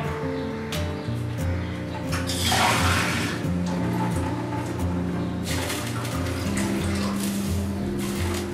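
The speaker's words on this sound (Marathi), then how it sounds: "डायरेक्ट पाणी ओतलंय" Water pours from a glass straight into a pan of browned gram-flour mixture, a steady rushing splash that swells and then keeps running beneath background hum.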